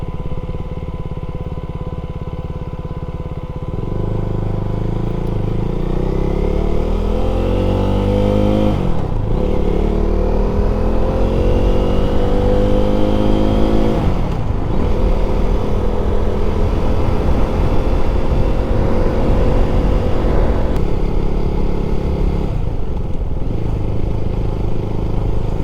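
A motorcycle rides along scenic back roads in Michigan, its engine droning steadily up close and loud, with rising and falling pitch as it accelerates through the gears and shifts several times, plus wind rush over the whole ride.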